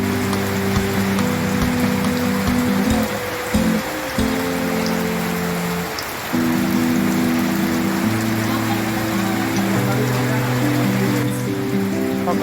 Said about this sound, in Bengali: তো খালি বৃষ্টি আর বৃষ্টি